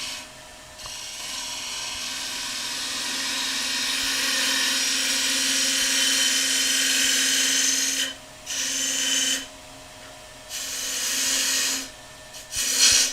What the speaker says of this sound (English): Somewhere in there is where I'm going to start taking some wood out.